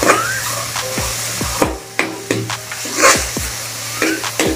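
Onion for paneer bhurji sautéing in a pan, a steady sizzle under repeated scraping and clinking strokes of a spatula against the metal, with a faint background hum and no talk.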